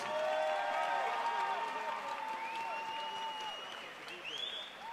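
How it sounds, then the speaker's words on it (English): An arena crowd at a pro MMA event in Jacksonville Veterans Memorial Arena, Florida, applauds both fighters. The clapping is sustained and fairly loud throughout, with a drawn-out, tonal voice ringing over it. "Ladies and gentlemen, how about a nice round of applause for both fighters"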